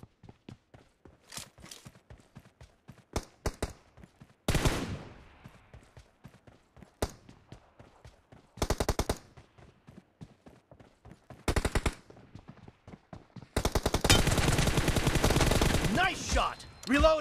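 Bursts of gunfire in the mobile game Battlegrounds Mobile India during a team deathmatch: sharp single shots and rapid automatic bursts spread out with gaps between them, ending in a long, loud sustained volley.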